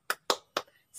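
Children in a Sunday school service doing a rhythmic spirit clap: three sharp, evenly spaced claps ring out clearly, followed by a faint patter and the start of a fourth.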